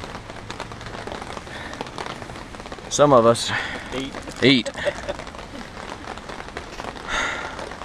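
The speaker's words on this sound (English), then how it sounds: "Most of us just watch it drizzle." Soft, steady patter of light rain runs throughout, with a person speaking briefly over it and a few louder clattering moments.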